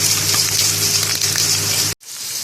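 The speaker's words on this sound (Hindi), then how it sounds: "1/2 टीस्पून हम इसमें ब्लैक पेपर डाल के इसको थोड़ा सा फ्राई कर लेते हैं।" Chicken frying in a pan with salt and black pepper gives a steady, close sizzle with a low background hum, cut off abruptly near the end by a brief drop to silence.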